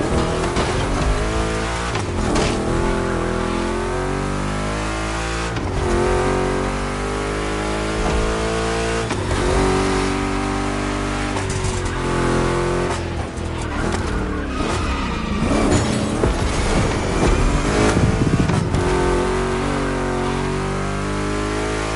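Two Chevy big-block cars race in a console racing game, their engines roaring loud and continuous, with rising and falling revs through gear shifts and occasional tire squeal, heard alone without talk.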